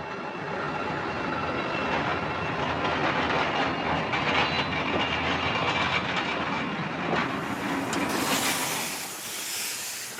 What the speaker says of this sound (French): la traction nouvelle fait ses premières apparitions sous la forme d'un X2400